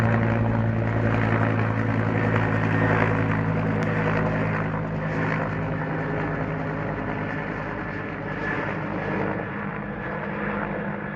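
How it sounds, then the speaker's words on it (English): A steady, droning rotor-engine hum holds throughout, fairly loud and constant, from a helicopter flying nearby over a farm dragging a water bag, with no voices. "That helicopter's dragging a water bag."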